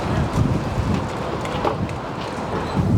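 Wind blows steadily outdoors beside a hot dog food cart, a broad rushing roar buffeting the microphone with gusts swelling near the start and end, no talk over it.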